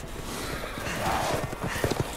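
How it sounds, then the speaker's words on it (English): Horses galloping in the Resident Evil Village video game, their quick hoofbeats thudding at a moderate distance beneath a dense ambient rumble. "Are those werewolves riding horses?"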